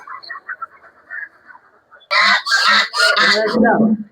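Large geese for sale at a market honk loudly in harsh bursts, several overlapping calls near the microphone, after a quieter stretch of faint murmuring background voices.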